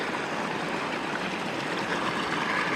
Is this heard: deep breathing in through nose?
no